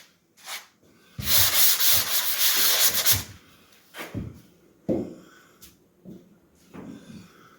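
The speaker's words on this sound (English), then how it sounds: "we're going to just sand them out" Drywall joint compound on an inside corner being sanded by hand, a close, loud, steady rasping rub lasting about two seconds, then shorter scraping strokes and light knocks with pauses between them.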